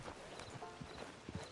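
Horse hooves clip-clopping in a steady, fairly quiet rhythm in the online Western game Red Dead Redemption 2 Online.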